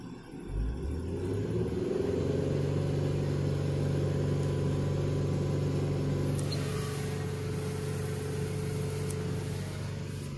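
A 2008 Hyundai Santa Fe engine, stalling with a fault, is revved up and held at a steady raised speed, a loud close rumble that climbs in pitch during the first second and then drones evenly with no talk.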